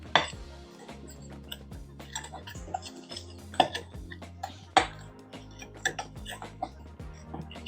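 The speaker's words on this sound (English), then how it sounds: "before I add this strawberry milk to this, I'm going to mix it" Sugar being mixed in a bowl before strawberry milk goes in, heard as repeated close clinks and light taps of a utensil against the dish in an uneven rhythm, with low hum beneath.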